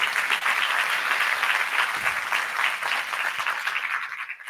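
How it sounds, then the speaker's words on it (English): Sustained audience applause fills a conference hall after a keynote session at an energy industry event, a dense, steady wash of many hands clapping that stays loud throughout and thins slightly toward the end. "Let's give them another round of applause."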